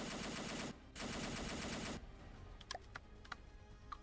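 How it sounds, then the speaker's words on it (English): A 23 mm twin cannon turret fires in From The Depths, with two long, dense bursts of rapid fire separated by a short gap, followed by scattered distant impacts and pops. "Probably 23 millimeter cannon rather than a machine gun."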